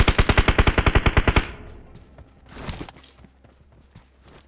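Automatic gunfire in the mobile game PUBG Mobile: a rapid, steady string of about fifteen loud shots lasting a second and a half, followed by softer game noise.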